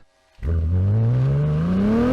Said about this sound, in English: Petrol engine in straight away, off we go.